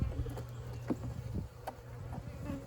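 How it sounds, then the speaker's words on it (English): Honeybees buzz around an open hive during a winter hive-body rotation, a low, steady, close drone with a few brief louder passes near the listener. "all the bees are coming up"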